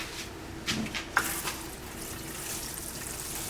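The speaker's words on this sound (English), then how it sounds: "one thing you want to do is wet the soil thoroughly" Water poured into greenhouse soil inside a bottomless soil sterilizer, a faint trickle and splash with a couple of brief louder splashes, then a soft continuous running flow.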